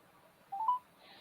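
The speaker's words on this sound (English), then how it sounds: "Yes, I'll call that number right now." Dial tones of a telephone number being keyed for a live call, a few short beeps in a row with a brief burst at the end, close and clear in an otherwise quiet room.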